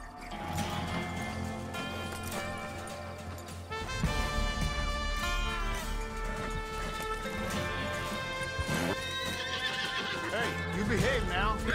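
A horse whinnies loudly in Red Dead Redemption 2 over game music with steady harmonic tones, followed by the clatter of hooves; a voice speaks at times.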